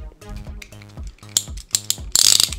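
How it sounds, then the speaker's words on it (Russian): A cardboard box being cut open, with clicking, ratcheting scrapes and tearing that grow louder toward a final burst of ripping, close up. "Я режу коробку."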